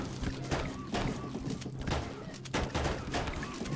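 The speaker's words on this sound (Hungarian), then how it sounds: "Ezzel a sniperrel oda tüzelek." Sharp gunshots crack several times in the zombie strategy game They Are Billions, a sniper rifle firing in a short burst of loud reports amid battle noise.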